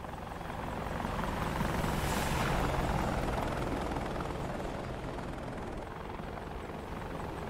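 An Apache helicopter taxis in the DCS flight simulator, its rotor and turbine making a continuous whooshing roar that swells slightly and then holds steady, moderately loud with no speech.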